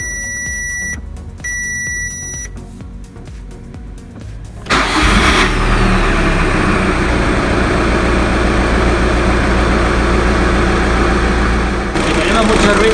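An Audi/Volkswagen car engine cranks and starts after a few warning chimes, then settles into a loud, steady idle that runs on close to the listener.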